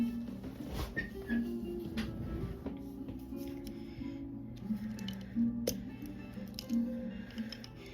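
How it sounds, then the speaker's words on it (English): A colored pencil is turned in a manual sharpener, making soft, repeated scraping and grinding strokes with small clicks, close and quiet, no talking. "I'm gonna go sharpen because this is really dull."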